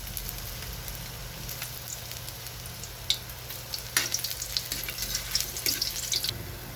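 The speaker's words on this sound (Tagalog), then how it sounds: "igisa natin guys yung luya guys para matanggal yung lansa" Ginger sautéing in hot oil in a pan for chicken adobo, a steady close sizzle with scattered crackles and pops growing busier toward the end.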